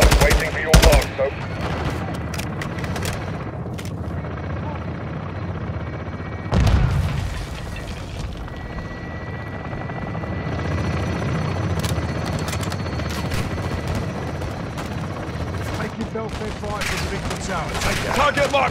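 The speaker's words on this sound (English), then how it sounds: "Weapons hot for gun run, waiting for your mark" Helicopter gun run in Call of Duty Modern Warfare 2, with a steady rotor drone and bursts of heavy machine-gun fire, a booming impact near the start and again around seven seconds, amid dense battle noise.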